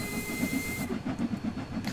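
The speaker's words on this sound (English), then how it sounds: "I will admit the whistle is a bit off" A steam locomotive whistle in Train Sim World 2 blows one steady, sustained tone for under a second and then cuts off, over rhythmic chuffing from the engine that carries on afterward.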